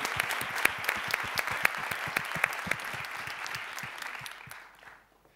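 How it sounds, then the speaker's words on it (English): Audience applause at the opening of a social innovation summit conference, steady clapping from a room full of people that thins out and fades to silence near the end. "So I think we should give a warm hand of applause to this team."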